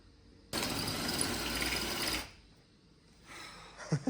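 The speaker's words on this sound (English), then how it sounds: "back to get the big drill out and hopefully drill whatever's left of it out" Large battery drill boring out the remains of a snapped crash bung bolt on a Ducati Hypermotard, a loud steady whir for under two seconds that stops abruptly, followed by faint quieter mechanical sounds.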